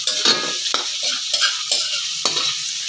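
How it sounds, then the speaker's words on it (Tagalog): Aromatics sautéing in a pan for Filipino chicken tinola, a loud close sizzle broken by rhythmic stirring scrapes every half second or so. "Gisa-gisa lang natin para lumabas yung bango niya."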